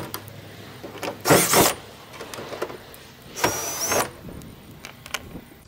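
A power driver removes the screws from the top cover of an RV air conditioner in two short, loud whirring bursts with a gap between them. Faint clicks and handling noise fill the quiet spaces.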